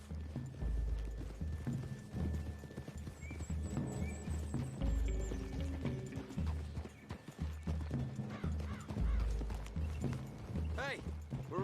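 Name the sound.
horse hooves clip-clopping in video game Red Dead Redemption II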